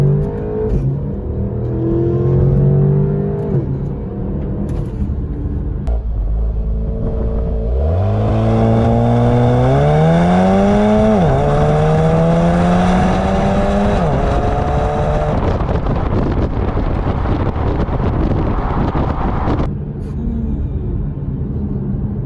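A 2018 Porsche Macan accelerating from 0 to 60, engine revving loud and close with rising pitch through several gear shifts, then settling into a steady high-speed roar and whir.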